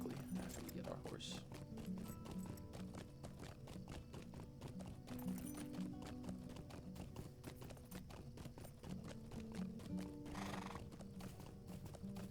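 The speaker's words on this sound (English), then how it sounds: "after we get our horse" A horse in the Lord of the Rings Online video game clip-clops along in a steady, rapid rhythm of hoof strikes, with a couple of whinnies breaking through over faint background music.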